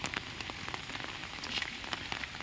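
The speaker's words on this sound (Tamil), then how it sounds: "மழை அடித்து தும்சம் பண்ணுது 2 நாளாக." Heavy rain pours on a village, lashing down around a house. It makes a dense, steady patter close by with scattered sharper drops, and no voices.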